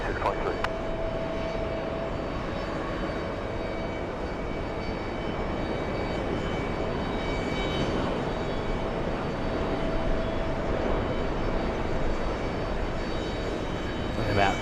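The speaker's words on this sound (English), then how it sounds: "We have the Condor Team Stripes landing on the closest runway to us." A Condor airliner lands on runway 22 right at JFK airport. Its jet engines make a steady, broad roar from a moderate distance that holds evenly throughout, with faint voices in the background.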